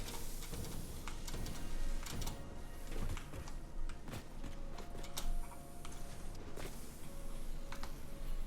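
Constructor machines building rotors inside a Satisfactory factory, a steady busy mechanical clatter of ticks and clicks with repeated sharp transients over a constant hum, no voices.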